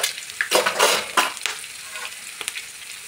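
Turmeric goes into a hot frying pan with a burst of sizzling. A spoon stirs and scrapes, and the crackle swells and fades in short, close waves.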